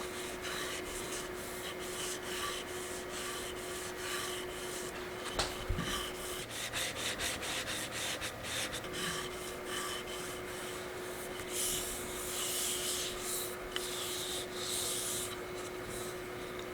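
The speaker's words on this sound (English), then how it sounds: "these Shapton glass are very fast cutting stones" A knife blade is pushed steadily across a Shapton Glass 1000 water stone in a home kitchen, a close, continuous gritty rasping with repeated strokes over a faint steady oven hum.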